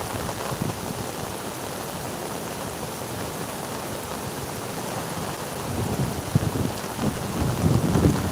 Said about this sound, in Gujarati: ગામમાં ધોધમાર વરસાદ પડવાથી આપ જોઈ શકો છો